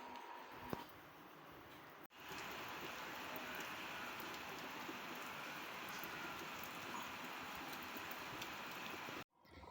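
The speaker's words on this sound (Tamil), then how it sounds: "பசங்க வீட்டுக்கு வந்த பிறகு நல்ல மழை பிடிச்சிக்கிச்சு நம்ம ஏரியாவில்." Heavy rain pours down steadily in a dense, even hiss that cuts out briefly once and again at the very end, with no voices.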